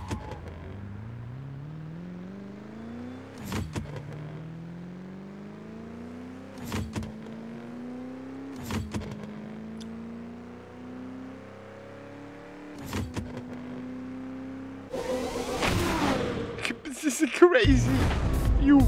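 Engine revving in a drag racing simulator game, pitch climbing steadily through several gears with sharp drops at each shift, followed by a louder, harsher burst near the end as nitro kicks in.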